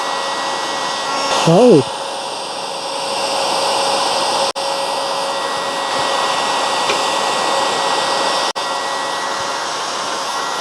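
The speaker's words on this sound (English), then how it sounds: "First up, the heat gun." A heat gun blows a steady, loud airflow while stripping paint from a radiator, a whooshing hum that runs almost unbroken with two brief cutouts, and a short exclamation from a voice near the start.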